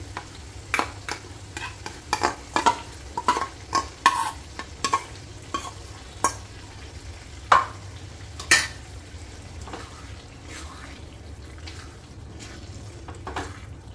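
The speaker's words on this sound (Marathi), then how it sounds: "आता आपण ही प्युरी टाकूया ह्याच्यामध्ये" Spinach puree is stirred into frying masala in a pan for palak paneer: repeated scraping clinks of a spoon against the pan over a low sizzle, close and rhythmic, thinning out toward the end.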